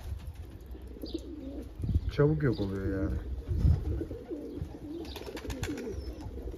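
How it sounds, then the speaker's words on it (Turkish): Pigeons coo softly in the background while someone talks over them, with a brief flutter of wings. "Bunlar da pırıltıya duyarlı güvercinler."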